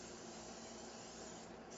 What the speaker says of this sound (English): I'm going to go ahead and spray a baking pan